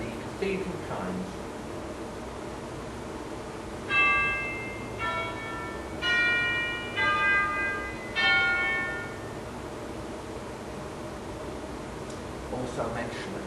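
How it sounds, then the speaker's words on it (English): Cathedral chimes on a Wurlitzer theatre organ ring out in a slow sequence of clear bell-like strokes, each leaving a lingering ringing tone, with a voice talking briefly before and after. "And we have the cathedral chimes."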